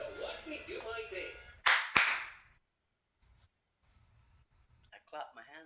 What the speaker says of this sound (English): I clap my hands.